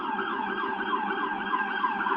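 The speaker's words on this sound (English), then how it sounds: "The sirens are back." Emergency vehicle siren on a New York City street, a loud continuous wailing tone held throughout, fairly near and alone with no talk.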